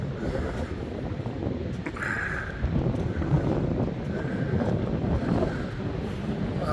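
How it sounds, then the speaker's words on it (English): Steady wind buffets the microphone out on Blackpool Central Pier by the sea, a constant loud rumble with gusts swelling and easing, and no voices. "How come when the sun comes out and it gets windier?"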